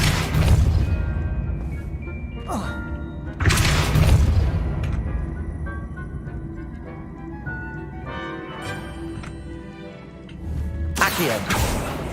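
Depulso spell cast in the video game Hogwarts Legacy, heavy booming blasts that land in three separate bursts, each trailing off into a ringing, echoing decay.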